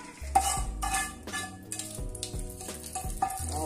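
A hot tadka is poured into chutney and stirred, giving soft sizzling and frying crackle with several scraping stirs of a spoon in a pan, close and fairly quiet.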